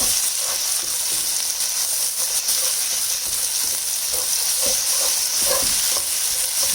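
Green chilies frying in a pan for prawn biryani, a steady bright sizzle with occasional soft stirring scrapes and crackles, close and continuous without talk.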